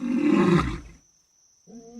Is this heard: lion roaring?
yes